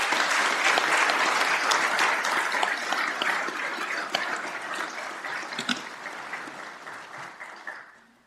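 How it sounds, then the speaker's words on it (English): An audience at a police academy graduation and swearing-in ceremony gives a round of applause, loud and dense at first and then thinning and fading out over several seconds. "Let's give them another round of applause, please."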